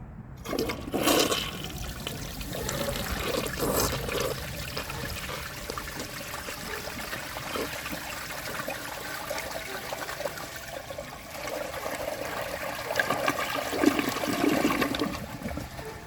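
A 1968 Kohler Wellworth toilet with a big unglazed trapway flushes with a grocery bag in the bowl, giving a steady close rush and gurgle of water that runs the full length with no talking.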